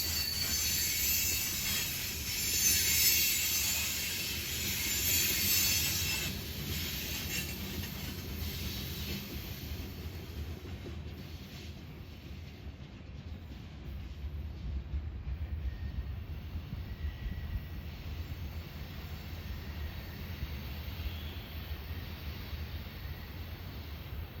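Steady rumble of a freight train of covered hoppers rolling past on the New River line, continuous low rail noise with brief high squeals early on, no voices.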